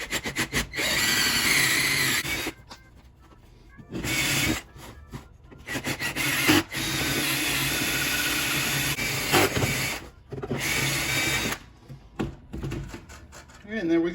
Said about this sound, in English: now I'm going to take my step drill and open those up.